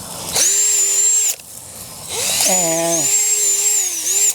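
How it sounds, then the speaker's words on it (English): A power drill whines at high speed drilling planting holes in garden ground, briefly stops, then revs up again with a pitch that rises and settles while a voice speaks over it. "drill a hole"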